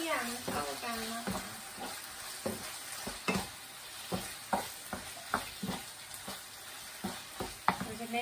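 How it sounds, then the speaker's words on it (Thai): Fish balls stir-fried with chili paste and seasoning in a pan, stirred with a spatula; repeated scraping, clattering strokes at a steady rhythm over a constant sizzle, close and clear, no talk. "แล้วก็คนทุกอย่างเข้ากันนะ"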